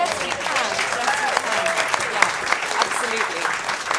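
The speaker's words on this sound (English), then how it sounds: "can we just have a quick round of applause for Rose Dapper?" A seated audience at a policy panel event gives a brief, steady round of applause, dense clapping lasting a few seconds with faint voices beneath.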